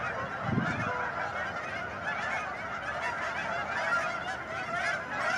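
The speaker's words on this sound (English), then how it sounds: "It's insane how many geese are in this pond." A large flock of geese on a pond honks continuously, a dense, noisy chorus of overlapping calls, some closer, most further off.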